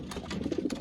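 Homing pigeons in a loft giving a brief, close, low throaty coo, soft and rounded.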